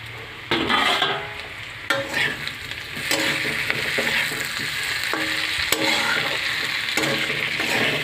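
A spice paste is stir-fried in oil in a pan, with a continuous close sizzle punctuated by repeated scraping and clinking of a spoon against the metal at an irregular stirring rhythm.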